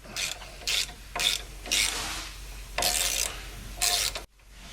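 A ratchet wrench clicks in bursts while loosening bolts on the axle of a 1997 Land Rover Defender 90: six close, rhythmic runs of pawl clatter with short pauses between them, and no talking.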